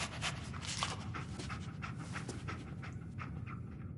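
Dogmeat, the dog in the Fallout 4 video game, pants rapidly and steadily up close, a continuous breathy rhythm with no talk over it.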